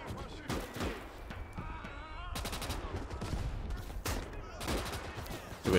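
Mortar fire in the World War II strategy game Call to Arms: Gates, with several heavy blasts landing in bursts around a Soviet advance on a German encirclement amid background battle noise and voices.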